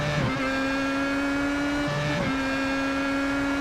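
Race cars in iRacing at the Autodromo Nazionale Monza, a loud continuous high-pitched engine whine with a sharp gear change near the start and another shift midway, sustained at full throttle down the straight.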